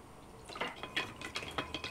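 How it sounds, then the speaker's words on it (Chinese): Utensil clinks and scrapes against a bowl while soy sauce, water, a little starch and zero-calorie sugar are stirred together for a chicken-breast jingjiang shredded pork dish; several quick, close, irregular taps. "咱们给它搅拌均匀。"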